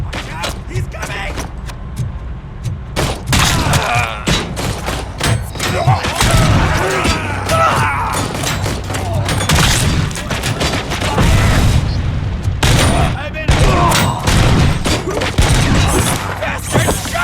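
Loud gunfire and heavy impacts in the shooter RoboCop: Rogue City, with a dense barrage of shots, thuds and booms packed close together and game voices shouting over the fight.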